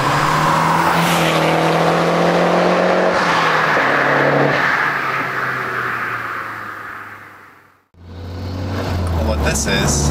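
A Mazdaspeed 3 hatchback driven hard, its engine droning loudly and rising and falling in pitch, fading out briefly before a sharp return, with a voice speaking over it.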